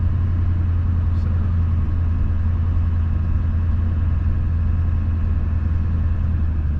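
A Chevrolet Silverado's Duramax diesel idles on a cold start, a steady, loud low rumble that holds unchanged throughout with an even mechanical drone and no voices.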